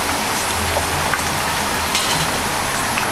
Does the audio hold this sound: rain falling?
yes